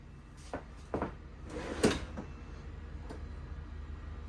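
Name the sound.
soft-close drawer closing in RV kitchen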